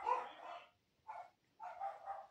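Dogs barking faintly in the background, a few muffled barks in three short bursts separated by quiet gaps, distant and soft.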